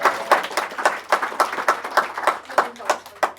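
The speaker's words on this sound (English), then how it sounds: "give him a round of applause for helping out today" A small audience at a Birmingham coffee-morning presentation claps for a young helper, a modest, uneven patter of hands with rhythmic bursts at close range, some light talk mixed in.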